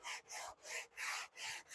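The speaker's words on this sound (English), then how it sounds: "Finally finishing the woodwork of this project by hand sanding a rounded edge to all of the top sides of the backer board." Hand sanding of a rounded edge along the top of a wooden backer board for a leather desk mat: five steady back-and-forth rasping strokes, close and rhythmic, with no talk.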